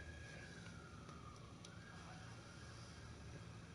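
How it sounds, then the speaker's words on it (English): A fire truck siren wails faintly in the distance, its rising and falling tone drifting over a steady low background rumble with no talking. "Oh, that's a fire truck."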